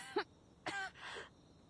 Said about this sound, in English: Pippa leans against the wall, she coughs, and a small trickle of blood escapes her lips.